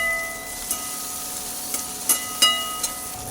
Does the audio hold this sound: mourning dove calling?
no